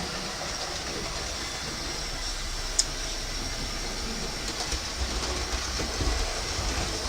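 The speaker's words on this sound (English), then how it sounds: "I've got trains that aren't making a racket, except if I turn up the speed on the J94" A J94 model train locomotive running at speed on its track, giving a steady faint mechanical rumble and light rail rattle with an occasional sharp squeal or click, no voices.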